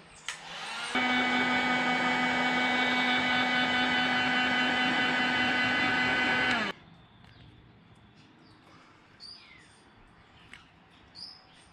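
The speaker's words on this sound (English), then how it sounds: "hit with a heat gun, shrink it over and seal the top off" A heat gun shrinking heat-shrink tubing over fuel lines during a 2H engine install in an FJ40 switches on with a loud, steady whining blow for about six seconds, then cuts off abruptly. Faint birdsong continues afterward.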